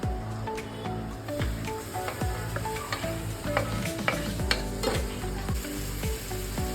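Tomatoes go into reddened onions frying with garlic and ginger, setting off a loud, close, continuous sizzle with repeated spatula scrapes and knocks against the pan, and no one speaking.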